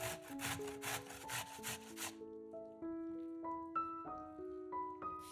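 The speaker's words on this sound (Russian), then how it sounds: "Кабачки трем на крупной терке." Zucchini is rubbed over a coarse grater in quick, rhythmic rasping strokes for about two seconds, close and fairly loud, before soft tonal music takes over alone.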